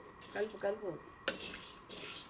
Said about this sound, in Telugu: ఈ విధంగా అండి కలర్ మారే వరకు దోరగా వేయించుకోవాలి.